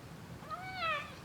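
A cat meows once, a short rising-falling call heard fairly clearly over a steady low background hum.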